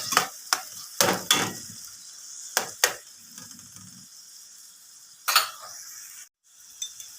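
Tomato and onion being stirred in a pan for pork caldereta: a few sharp scrapes and clinks of the spoon against the pan come in scattered bursts over a faint, low sizzle.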